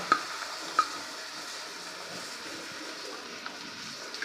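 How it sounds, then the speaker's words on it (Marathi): Semolina being roasted in milk cream in a pan for sheera, with a soft, steady sizzle and a few light scraping taps of the stirring spoon, close and quiet. "आता ह्या साईमध्ये सुद्धा आपण रवा छान असा भाजून घ्यायचा आहे"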